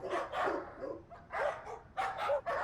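Several dogs bark in repeated bursts near a residential housing society at night, loud and insistent with short gaps between volleys, no talk over them.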